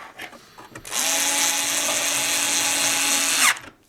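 A cordless power screwdriver drives screws into a vacuum cleaner's lower housing, giving a loud, steady whirring buzz of about two and a half seconds that rises slightly and cuts off sharply, with a few small clicks beforehand.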